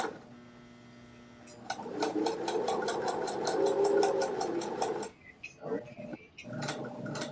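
A sewing machine runs a top stitch in a steady mechanical rattle at close range for several seconds, then slows into short stop-start bursts toward the end.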